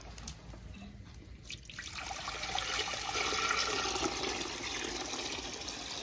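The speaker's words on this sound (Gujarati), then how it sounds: "અને ત્યાર પછી આપણે પાણી વેડીશું અંદર" Water poured from a vessel into a pan on a lit stove for garlic curry, a soft rushing splash that builds after a second and runs steadily for several seconds, fairly quiet and with no voices.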